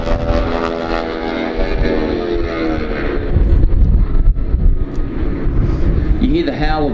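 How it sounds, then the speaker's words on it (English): Propeller aircraft in a formation aerobatic display at the 2017 Avalon Air Show in Australia, flying at about 200 knots with propeller tips going supersonic, give a loud, rasping drone with a harsh buzzing edge, heard over wind and an announcer's commentary. "So that's the propellers going supersonic"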